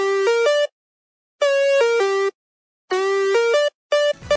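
A mobile phone rings for an incoming call, a bright synthetic melodic ringtone playing three short phrases separated by pauses, clear and close, with a brief clatter at the end.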